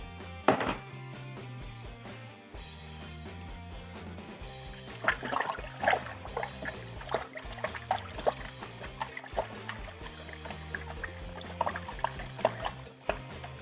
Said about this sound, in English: And then same thing, we're just gonna stir it in.